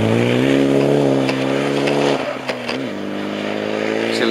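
A Mitsubishi Lancer Evo rally car engine holds a high, loud rev, then drops in pitch through a gear change and settles into a steadier tone, heard close.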